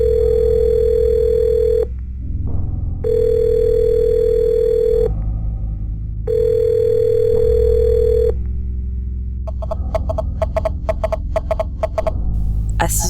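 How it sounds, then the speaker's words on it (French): A telephone dial tone hums steadily in repeated stretches, broken by pauses, then gives way to a quick run of dialing clicks or key tones as a number is entered; loud and close, no talking. "Cette nuit, je composais donc son numéro."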